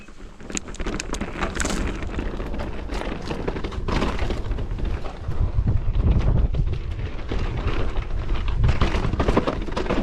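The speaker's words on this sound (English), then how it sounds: "Let's get into some riding now to end it off." A mountain bike ridden fast along a dirt trail, with dense continuous wind roar, rattling and thumps from the bumpy ground that stay loud and close throughout and no talking.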